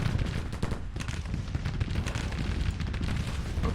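Massed musket volleys crackle continuously across a Civil War battlefield in Grand Tactician, dense overlapping shots and distant booms blending into a rolling, roaring din.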